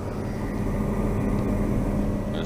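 A steady, close helicopter engine drone with a low rhythmic thrum fills the cabin in flight, continuous and loud with no voices.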